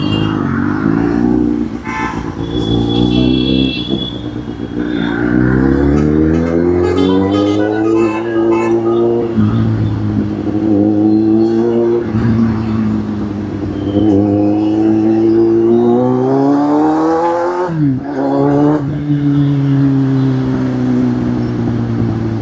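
Cars and motorcycles sit in jammed traffic, with loud engine drones that rise and fall as they rev and creep forward, and a few horn toots cutting through near the start.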